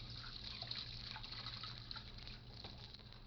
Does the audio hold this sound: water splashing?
yes